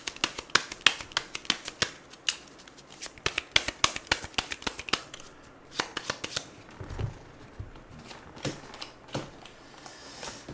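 A tarot deck is shuffled and riffled up close in a quiet room, making a long run of quick papery flicks and snaps with short pauses between bursts.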